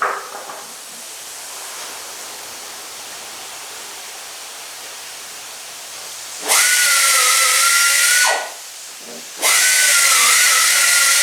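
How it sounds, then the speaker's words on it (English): A bench grinder cleans up small metal parts for a 1958 car restoration, two loud bursts of grinding hiss with a steady whine, separated by a brief pause, after a quiet stretch. "we'll simply just take them over here to the grinder, clean them up a little bit"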